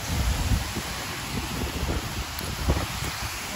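Breezy wind outdoors buffeting the microphone in a steady low rumble with rustling gusts, continuous throughout and fairly loud.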